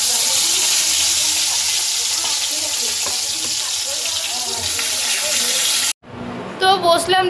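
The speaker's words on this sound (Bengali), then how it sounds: "কড়াইটা ধুয়ে নিয়ে চলে এসেছি, এর মধ্যে মাছটা ভাজবো।" Fish frying in a kadai (wok) gives a loud, close, steady sizzle with a hissing roar for about six seconds, then cuts off abruptly before a voice talks.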